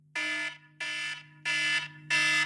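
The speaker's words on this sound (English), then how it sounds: "I feel quite triggered by that because that's my morning alarm." A fire-alarm-style electronic tone sounds as a five-minute timer, four loud identical beeps of about a third of a second each, evenly spaced over a steady low hum.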